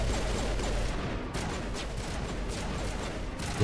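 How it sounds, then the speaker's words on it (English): Pistol fire in the video game Mass Effect crackles in a rapid series of sharp pops at moderate loudness, the shots running together over a dense background of game noise. "The pistols in this game are incredible."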